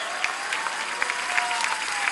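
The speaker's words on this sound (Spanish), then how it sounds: "Un aplauso" Audience applause at a cultural centre inauguration in Mexico, a steady wash of clapping from a crowd that holds evenly through the whole stretch.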